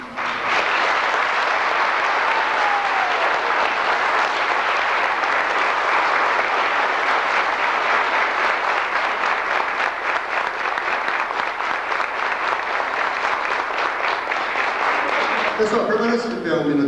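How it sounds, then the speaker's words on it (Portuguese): A theater audience at a school stage show gives loud, sustained applause that fills the room without a break, dense and close, until a voice starts speaking near the end. "Os aplausos para eles, artistas, poucos entenderam."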